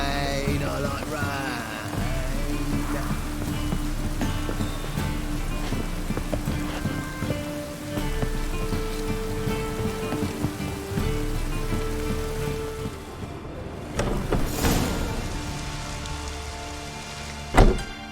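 Steady rain falls in the game The Witcher 3: Wild Hunt, a continuous patter under low music-like tones, with a sharper burst near the end.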